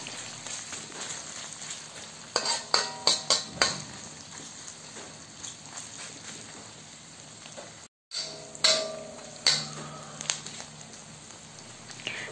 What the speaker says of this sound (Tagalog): Lutuin lang natin ang sibuyas ng 3 minuto or hanggang sa lumambot na ito